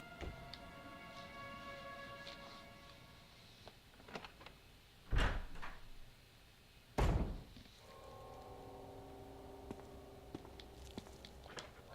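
A door opening in the Resident Evil HD video game: two heavy thunks a couple of seconds apart, then a sustained low rumble, over quiet ambient game tones.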